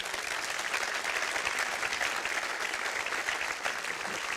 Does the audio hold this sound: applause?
yes